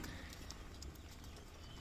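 Hooves of a newly bought cow clop steadily on a road as it pulls a cart for the first time, a rhythmic, fairly faint beat under constant outdoor background noise.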